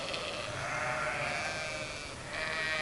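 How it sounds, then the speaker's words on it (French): A flock of some 400 sheep bleats continuously in the Mercantour mountains, overlapping calls from many animals forming a dense, steady chorus at moderate distance, with no talking. "Ça doit être dur de manager 400 moutons."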